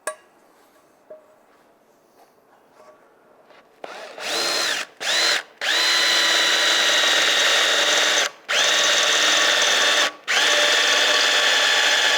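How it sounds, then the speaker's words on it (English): A power drill whines loudly in several bursts, starting and stopping with short pauses, a high steady screech as it bores a hole into carbon steel for a skillet. "before I drill that second hole, it's exactly where I want it"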